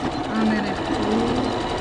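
A sewing machine stitches a fabric mask with elastic in place, a steady close mechanical whir running through the whole short moment with a busy texture.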